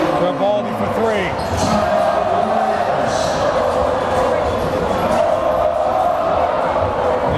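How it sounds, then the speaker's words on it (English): Boys' high school basketball playoff crowd, Andover vs SHS, roaring and cheering loudly and continuously in a gym, with ball bounces and a commentator's voice over the noise. "The entire Andover crowd jumping."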